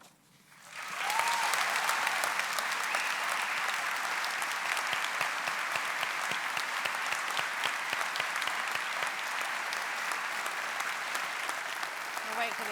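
An audience at a University of Brighton summer awards ceremony applauds Dame Marianne Griffiths as she receives an honorary Doctor of Science degree. Dense, steady clapping fills a large hall and holds at an even level the whole time.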